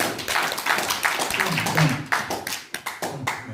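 A lecture audience bursts into a dense round of applause, many hands clapping steadily before it thins into a few scattered final claps.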